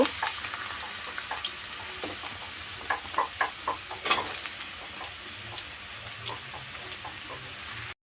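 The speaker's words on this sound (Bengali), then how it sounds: "আলুগুলো দিয়ে আমি একটু ভেজে নেব" Potatoes fry in a pan with a steady, close sizzle and hiss, broken by a few clinks and scrapes of stirring midway through.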